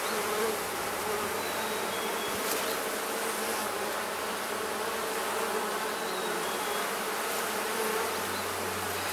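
Honeybees buzz in a steady, dense drone throughout a beehive inspection, a close, continuous hum of many insects with no talking over it.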